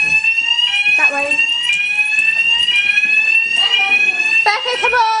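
A fire alarm rings loudly and continuously with a steady high electronic tone throughout, while people shout and talk over it.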